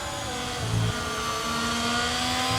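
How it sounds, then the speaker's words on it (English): A Ferrari race car in a racing video game revs with a steady, sustained engine tone that holds its pitch, moderately loud with no talk over it. "Ferrari, very nice engine tone."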